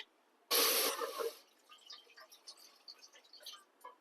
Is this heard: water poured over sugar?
yes